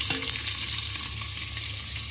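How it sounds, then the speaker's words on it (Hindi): Sliced onions and whole spices frying in a pan, a steady close sizzle with a brief stir or scrape near the start. "और प्याज को गोल्डन ब्राउन भून लेंगे।"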